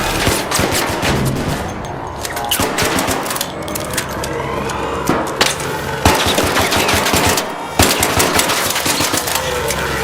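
Rapid automatic gunfire from a shooting video game rattles almost nonstop, loud and dense, with short bursts and brief pauses between volleys.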